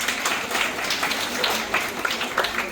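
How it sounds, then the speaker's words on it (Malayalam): A crowd applauds students being honoured at a community ceremony in Perinthalmanna, Kerala: a dense, steady patter of many hands clapping for nearly three seconds, with no one speaking. "അതുകൊണ്ട് നല്ലൊരു കയ്യടി നമുക്ക് ആദ്യം അവർക്ക് കൊടുക്കാം."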